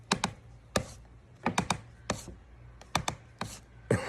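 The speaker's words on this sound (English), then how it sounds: "This is the sound of a Bic lighter, 2 taps and a slide." Sharp plastic taps and clicks from a Bic lighter, handled with taps and a slide, repeat in scattered pairs, close and crisp against a quiet background.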